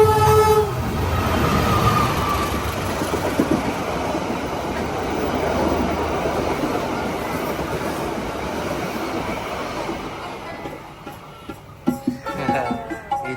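A train rumbles past close by with a loud, continuous roar of wheels and cars, fading toward the end with a few clanking rattles.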